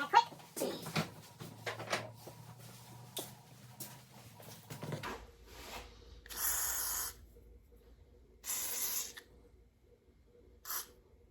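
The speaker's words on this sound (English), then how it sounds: "the first thing we need to do is lubricate with some WD-40 is what I use here." WD-40 lubricant is sprayed onto a hole saw in three short, sharp aerosol hisses, each separated by quiet pauses, following a stretch of clattering handling noises and a low hum.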